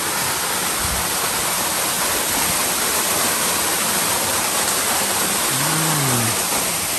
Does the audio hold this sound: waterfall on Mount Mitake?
yes